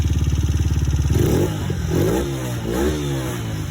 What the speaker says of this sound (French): un coup de démarreur, poignée bloquée dans l'angle pour la faire monter en température